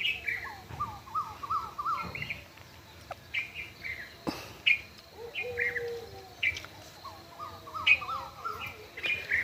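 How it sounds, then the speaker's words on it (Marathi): An Asian koel sings on a village morning, repeating bursts of rising, clear calls in quick series, close and distinct over a quiet background. "तिकडं कोकिळची सुंदर सुरमयी गाणं सुरू होतं."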